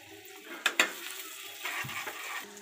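Crushed green chili paste drops into a hot kadhai tadka of oil with cumin, mustard seeds and garlic. Two sharp clunks come first, then a brief, close sizzle that swells and fades with some stirring.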